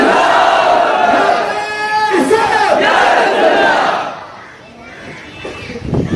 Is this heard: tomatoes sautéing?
no